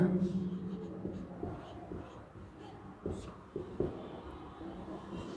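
Equations being written on a classroom board during a physics lecture on electric current, soft scratchy strokes and a few sharp taps heard close by over faint room noise.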